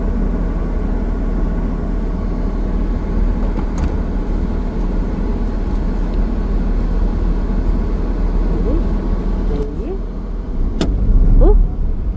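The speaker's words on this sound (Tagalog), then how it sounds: "Oh, Bray, mabilis pala mag-drive si Alex." A car being driven fast hums with a steady, loud engine and road rumble inside the cabin, swelling louder near the end, with people talking over it.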